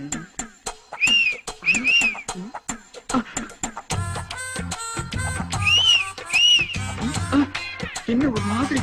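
Someone whistles a short rising-and-falling phrase over and over in a Tamil film comedy scene, blended with background music and voices.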